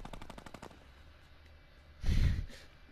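Minigun fire in the Fortnite video game, heard as a rapid rattling burst at the start, then a louder, heavier blast with a booming low end about two seconds in.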